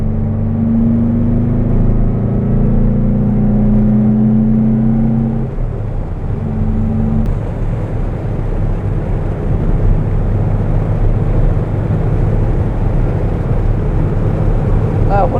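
A 1962 Porsche 356 B 2000 GS Carrera 2 with its 130 hp two-litre engine cruises at speed, a loud droning engine tone that shifts pitch midway, with wind and road roar filling the cabin.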